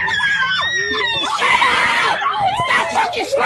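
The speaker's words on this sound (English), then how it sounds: "Stop fucking screaming." A person screams loudly and repeatedly during a tense confrontation, with shrill, wavering cries close by, while other voices shout and talk over them.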